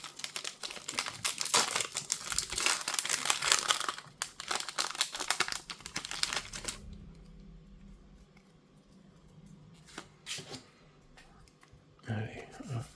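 Pokémon card booster packs are torn open, their foil wrappers crinkling loudly in dense, busy bursts for several seconds. Quieter rustling and a few sharp crackles follow.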